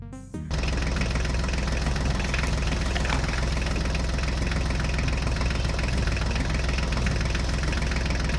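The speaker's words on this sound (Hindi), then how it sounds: "ड्राइवर ट्रैक्टर गाड़ी को स्टार्ट कर रहे हैं" A toy tractor starts up with a brief sputter, then settles into a loud, constant buzzing engine drone with a rapid rattle, close by and uninterrupted.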